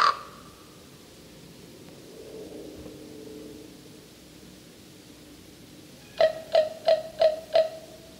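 Crows give a run of five evenly spaced, loud caws close by after a long quiet stretch, each a short harsh territorial call.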